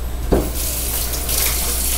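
Water runs from a faucet into a kitchen sink, a steady splashing stream after a brief knock at the start, close and fairly loud with no voices.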